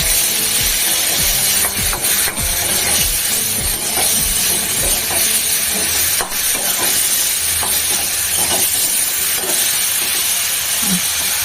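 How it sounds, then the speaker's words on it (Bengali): Green beans are stirred in a hot cooking pan, giving a continuous loud sizzle and hiss with irregular scraping and rubbing strokes throughout. "সিমগুলোকে একটু নাড়াচাড়া করে দিই।"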